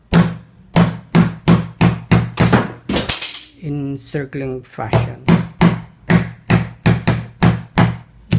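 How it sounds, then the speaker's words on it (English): Sharp metallic hammer strikes drive an electric fan bushing into place, ringing out in a rapid, steady rhythm, close and loud, pausing briefly while someone speaks before the hammering resumes. "all you have to do is just to hammer it down"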